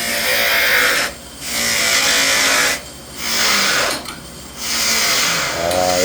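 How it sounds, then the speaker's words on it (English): A spinning cotton buffing wheel, caked with polishing compound from stainless steel work, is scraped clean with a blade, giving loud grinding whirs in several bursts separated by brief quieter gaps. "So you're using a blade on the wheel to clean away the compound that's been built up on it."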